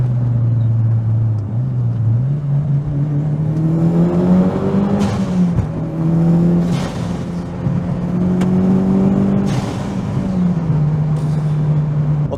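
A turbocharged Mitsubishi Lancer Evolution VIII engine drones steadily and rises in pitch as it accelerates at full throttle, a loud continuous roar heard from inside with brief gear-shift dips.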